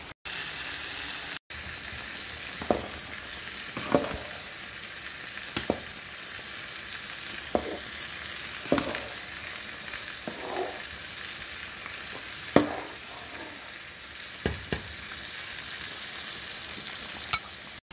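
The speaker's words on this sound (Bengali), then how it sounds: "ম্যারিনেট করা চিকেন দিয়ে দিয়েছি, এখন খুব ভালো করে মিক্স করে নিই" Marinated chicken frying with onions in a pan gives a steady close sizzle, with a spoon scraping through it every second or so as it is stirred.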